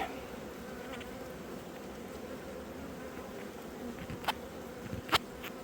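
Honeybees around freshly opened hives hum in a steady, dense buzz close by, with a few sharp clicks near the end.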